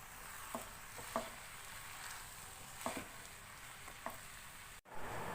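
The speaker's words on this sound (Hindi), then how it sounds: "वेजिटेबल के साथ मैंने नूडल्स को अच्छी तरह से मिक्स कर दिया है।" Boiled noodles stir-fry with vegetables in a pan, a soft, faint sizzle with a few light scrapes and taps from stirring, steady and quiet with no speech.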